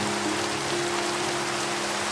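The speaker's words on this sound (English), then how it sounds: "I feel like it's been raining for both episodes." Rain falls in the Minecraft video game, a steady, even hiss of soft pattering over a faint low hum, continuous and moderately quiet with no voices.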